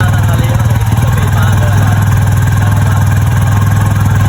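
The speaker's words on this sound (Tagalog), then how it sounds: "Kahit nakabito yung silinyador, umaandar pa rin yung makina." A Honda TMX Supremo motorcycle engine idles up close with a faulty, unsteady idle setting, a loud steady low chugging throb that never varies, with faint mechanical clatter over it.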